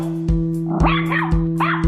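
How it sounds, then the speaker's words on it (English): A small dog, a chihuahua, barks in a stage musical: a few sharp yips and barks in quick succession over a steady electronic hum, loud and close. "Oh, look, it's a lady with a puppy. Oh, is it a chihuahua?"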